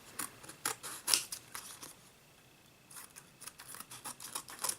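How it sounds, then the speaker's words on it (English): Scissors snipping off sticky edges on a paper-craft shaker frame, a run of quick crisp cuts in two bursts with a brief pause between, close and fairly quiet. "I want to cut off these little extra sticky edges"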